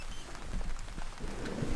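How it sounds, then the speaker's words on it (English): Rain falls steadily on tent fabric, surrounding leaves and the tent roof during a camping trip, a soft continuous patter with scattered drop taps and a few heavier thuds close by. "Listen, the raindrop on the fabric, on the leaves, on the roof of the tent."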